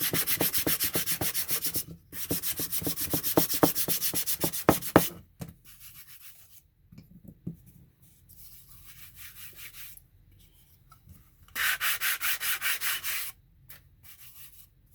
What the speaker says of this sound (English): give it a light sanding across the top to remove any tape marks